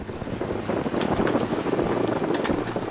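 Strong wind roars and buffets the microphone continuously, with a low rumble beneath, on a boat sailing close-hauled across the North Sea toward Zeebrugge.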